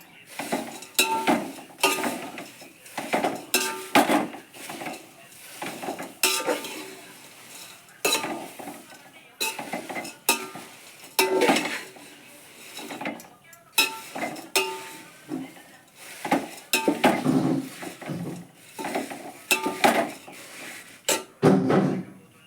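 Crisp paper poha (atukulu) is stirred in a pan for a Telangana-style tempering, giving repeated dry, rustling scrapes and crackles in uneven bursts with short pauses between, close and fairly loud.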